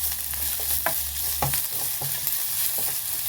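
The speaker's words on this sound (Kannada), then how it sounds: "ಬೆಳ್ಳುಳ್ಳಿ ಪಾಡ್ದು ಚೂರು ಫ್ರೈ ಮನ್ಪ್ಲಿ" Garlic fries in a pan for Mangaluru-style chicken, giving a soft steady sizzle with scattered stirring scrapes and small pops, close and fairly quiet, no speech.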